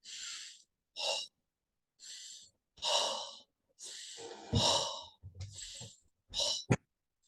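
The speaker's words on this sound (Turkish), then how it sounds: "Şimdi burnunuzdan nefes alın ağzınızdan bırakın." Paced breathing during a chakra balancing exercise, in through the nose and out through the mouth, heard as a series of close, distinct airy inhales and exhales separated by short silences, with no talking.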